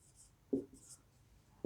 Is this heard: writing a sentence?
yes